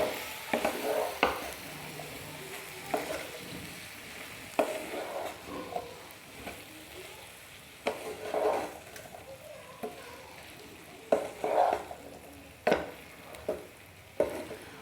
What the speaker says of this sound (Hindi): जो सब्ज़ी हमने पहले फ्राई की थी उनको डाल देंगे इसमें। और इनको मसाले के साथ अच्छे से मिला देंगे।